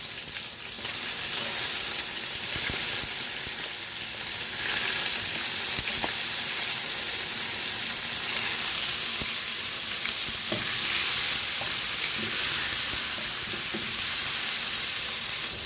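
Onion and tomato sizzling in a frying pan while cooking a fish-head soup, a continuous loud sizzle with bursts of crackling and occasional stirring clinks, no talk.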